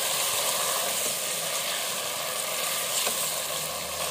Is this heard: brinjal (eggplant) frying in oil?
yes